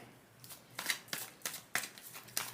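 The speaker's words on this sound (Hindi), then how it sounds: "और हम कुछ कार्ड्स निकालते हैं और जानने की कोशिश करते हैं।" Tarot cards drawn one after another from a deck, giving about six crisp, close papery snaps and slides at a steady, unhurried pace against a quiet room.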